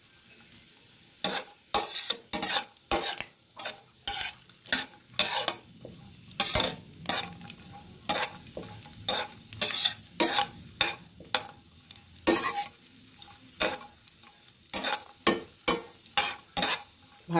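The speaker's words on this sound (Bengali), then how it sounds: "কাজুটা মিডিয়াম আছে ভাজবো।" Cashews fry over medium heat in a pan for sweet semai, a soft constant sizzle broken by frequent sharp scrapes and clinks of stirring, close and alone with no talk.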